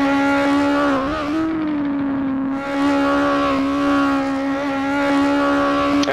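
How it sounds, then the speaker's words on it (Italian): A race car at a hillclimb event on Etna near Catania revs hard at the start line, its engine a loud, sustained high-pitched howl that dips briefly and climbs again, close and continuous, with no voices. "c'è chi parte a giri altissimi e pronti via, c'è chi parte a giri bassi e poi fa alzare i regimi motore"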